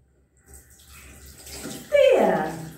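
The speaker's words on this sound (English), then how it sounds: "We need to put the tap on, on." Water runs from a tap into a basin, starting softly and then gushing louder near the end as the flow opens up, with no talk over it.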